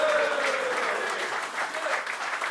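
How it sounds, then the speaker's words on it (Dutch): An audience in a carnival café applauds steadily, a dense wash of many hands clapping at moderate loudness for the whole stretch. "Maar een applaus voor Roger Vliegen, alsjeblieft."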